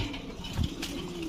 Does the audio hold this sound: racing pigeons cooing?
yes